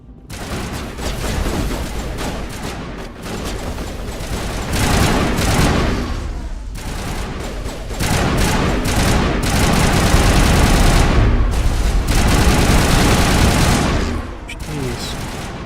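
Sustained video game gunfire, dense rapid bursts and booming shots rolling almost continuously at close range, with voices talking over the din.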